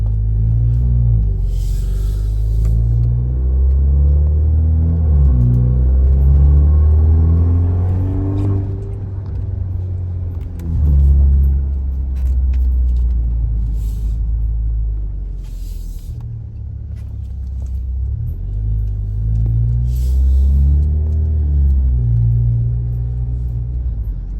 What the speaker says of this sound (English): just so you can kind of hear the sound of the exhaust in the cabin with the windows up